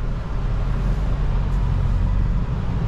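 Steady cabin road noise inside a 2023 Toyota Corolla with a 1.5-litre naturally aspirated three-cylinder engine, a constant low rumble and broadband hiss of tyres and wind at moderate level, with no talk.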